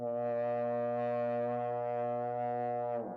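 A sustained, droning horn blast for a video game emote, steady and loud for about three seconds before cutting off with a brief downward slide; no talking.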